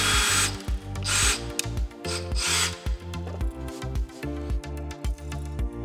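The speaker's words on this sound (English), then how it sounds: "we can go ahead and we can drill the pilot holes." A power drill whirs in repeated short bursts, drilling pilot holes while assembling a heavy duty bench, close and loud, its pitch rising and falling as it bores steadily with no one talking.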